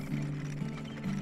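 Horses trotting in the Turmoil video game, a steady low clip-clop of hooves repeating in an even rhythm, moderately loud and without voices.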